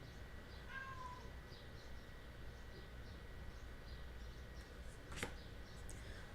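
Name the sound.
cat meowing to be let out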